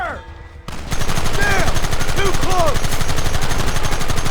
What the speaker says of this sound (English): Keep your eyes peeled. There they are! Open fire!